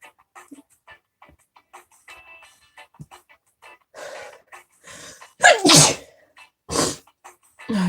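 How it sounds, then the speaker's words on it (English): A person sneezes several times while getting ready and applying makeup, with small sniffs and breaths leading up to two loud, close sneezes near the end. "I'm so tired of sneezing."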